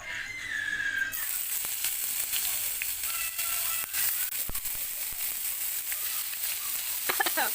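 Pieces of chicken for chicken rezala drop into a hot pan of fried whole spices and hiss into a loud, steady sizzle after a quieter start, with occasional sharp clicks of utensils.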